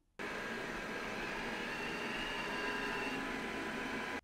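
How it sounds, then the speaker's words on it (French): A steady, broadband whirring hum from an Eufy Robovac X8 Hybrid robot vacuum in silent mode starts abruptly and runs evenly, moderately quiet, with no voices. "je vous montre un extrait de l'aspirateur en mode silencieux"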